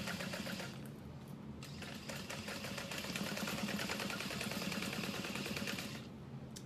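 A sewing machine sews a fabric bucket bag, with a steady close-up hum and rapid needle clatter running almost continuously, briefly easing near the start and the end.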